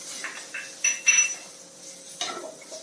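Tomato and vegetables being sautéed in a pan over a low flame: a handful of light clinks and scrapes from a utensil against the pan, spaced out and fairly close, with no talking.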